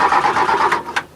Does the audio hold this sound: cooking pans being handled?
no